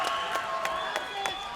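Crowd at the Dome applauding during a grappling fight as one fighter takes his opponent to the ground, a steady wash of clapping with a few sharper bursts, loud and continuous.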